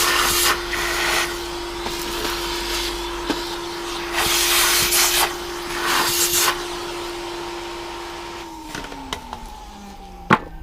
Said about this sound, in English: Let's vacuum that out.